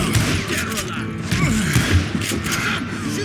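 Western gunfire in the video game Call of Juarez: Gunslinger, rapid repeated gunshots and thuds crackling in a steady barrage, close and loud, with a voice briefly audible.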